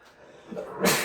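A single close sneeze bursts out sharply at the end after a brief intake of breath.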